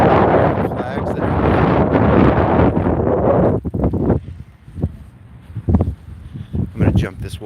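Strong gusts buffet the microphone outdoors in Washington, D.C., with a loud rumbling roar for several seconds, then drop to intermittent bursts and thumps.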